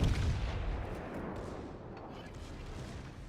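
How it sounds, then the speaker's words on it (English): Deep, booming salvos from the Bismarck's secondary battery guns in World of Warships, a loud rumbling barrage that starts strongest and rolls on steadily. "Now the secondaries are helping out here quite a bit, I guess."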